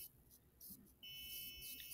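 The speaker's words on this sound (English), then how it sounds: "you can hear my buzzer in the background" A piezo buzzer on an Arduino project emits a faint, steady high-pitched tone that stays on in the background, quiet and continuous under low room noise.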